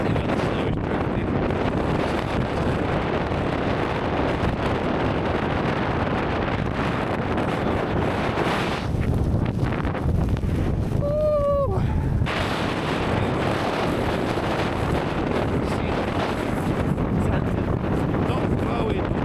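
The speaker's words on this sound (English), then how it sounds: "Well, the wind has picked up further." Strong wind roars steadily across a snowy winter wild camp in a blizzard, buffeting the microphone throughout, with a brief lull midway and a few faint vocal sounds.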